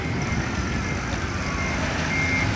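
A goods truck reverses with its warning beeps sounding over a loud, continuous rumble of engine and road noise close by.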